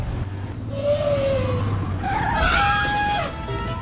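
A scooter racing in at speed and skidding, heard as a rising engine whine and a drawn-out tire squeal, loud and close, with a synthetic tonal edge.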